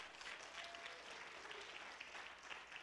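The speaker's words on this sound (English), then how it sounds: "Guys, give a round of applause for Joanna." A church congregation applauding during a Sunday service, a steady wash of clapping from many hands filling the room throughout, moderately loud with no speech over it.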